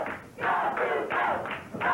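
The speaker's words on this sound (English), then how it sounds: "And the entire crowd now picking up that chant" A 1980 Georgia Championship Wrestling arena crowd chants in unison, loud rhythmic bursts of voices repeating about every half second, close and unbroken.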